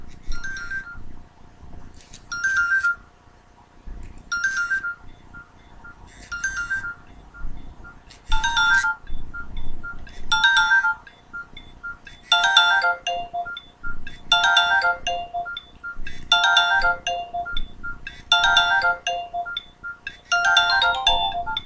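Clock alert 2 tone from a Nokia 6288 phone plays alone, a bright electronic pattern of short repeating beeping bursts in regular groups, growing denser and louder over about twenty seconds.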